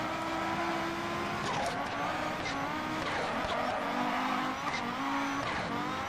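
Rally car in a Pikes Peak racing game, understeering wide through a corner with a steady engine drone and tire scrub and squeal, loud and continuous throughout.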